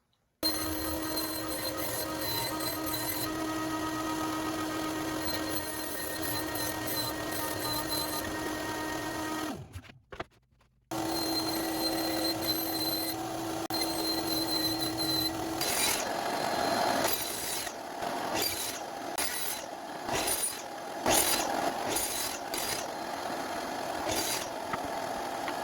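A power saw rips half-inch sanded pine-faced plywood into boards in a workshop. A loud, steady whining roar runs almost throughout, cuts out briefly partway, then resumes with rougher, choppier cutting noise near the end.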